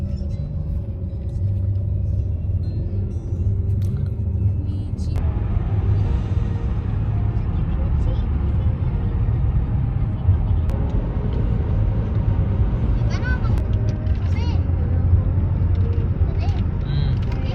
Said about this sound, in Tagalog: Uphill drive.